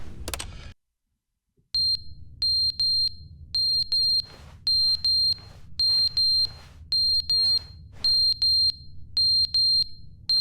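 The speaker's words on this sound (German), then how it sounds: "Ach, der Rauchmelder will die Batterien gewechselt haben. Na, die piepen ja nur so ein bisschen dann." Smoke detector in The Stanley Parable chirping for a battery change: a brief loud burst, a moment of silence, then a steady run of short high electronic beeps in quick pairs over low background hum.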